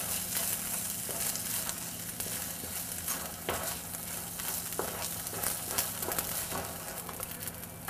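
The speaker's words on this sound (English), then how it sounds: "add the soaked and drained glutinous rice. Coat the rice with the garlic and oil." Soaked glutinous rice fries with browned garlic and oil in a pan, a steady close sizzle broken by occasional scraping stirs and light ticks.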